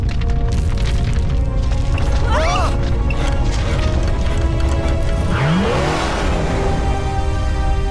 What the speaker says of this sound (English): We just had an earthquake.